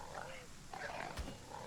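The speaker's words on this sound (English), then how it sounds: "Oh my god, wolves." Wolves in the survival game ASKA give low, faint growls and snarls amid a dense ambient game soundscape, fairly distant and rumbling, with a brief thump partway through.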